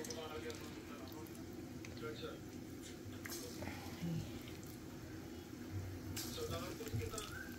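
Pakoras hit hot oil in a home kitchen and sizzle softly and steadily while a voice talks throughout, with occasional bubbling pops.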